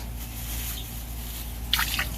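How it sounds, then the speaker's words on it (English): Salmon juice is poured into a backyard planting hole for an Arizona Aravaipa avocado tree, a brief wet splash and dribble near the end after a quiet outdoor stretch. "Should we just pour some of that juice in?"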